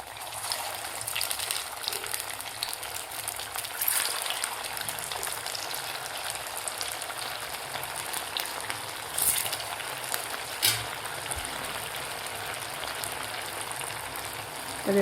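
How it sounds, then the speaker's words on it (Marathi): Fasting-style farali medu vada fry in hot oil, giving a steady, crackling sizzle with soft bubbling that stays even and fairly quiet throughout, broken by a few sharper pops. "तर व्यवस्थित आपल्याला गोल्डन कलर होईपर्यंत आपल्याला हे तळून घ्यायचे आहेत"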